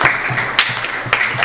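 Audience applause at a Lord Narasimha Yagya gathering in Phoenix, Arizona: a steady, dense wash of clapping from a crowd, fairly close, with a few brief louder bursts and no talk over it.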